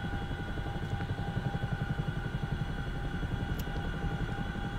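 A Huey helicopter flying in the DCS flight simulator gives a steady, loud rotor thump over a constant engine drone, with no talk.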